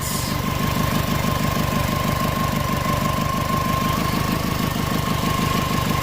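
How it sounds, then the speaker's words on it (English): A Subaru Forester engine idles close up after a fuel leak repair, a steady, even rhythmic thrum with a constant pulsing beat and a faint tonal whine, running alone without talk. "It's been running for like half an hour now, idling."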